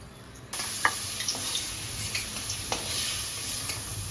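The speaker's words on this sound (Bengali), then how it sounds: "তেলটা গরম হয়ে গেছে, গোটা শুকনো লঙ্কা তেজপাতা দিয়ে দিলাম" Whole dried red chillies and bay leaves dropped into hot oil, a sudden sizzle that starts abruptly and keeps up a close, steady hiss with small crackles and pops.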